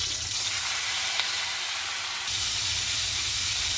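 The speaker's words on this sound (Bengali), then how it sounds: "দারচিনি, এলাচ, তেজপাতা, যে মুড়ি ঘন্ট রান্নার জন্য আমি এই যে তেলে দিয়ে দিলাম।" Cinnamon, cardamom and bay leaves fry in hot oil for a Bengali muri ghonto dish, giving a continuous close sizzle and hiss with a brief swell of crackling near the end.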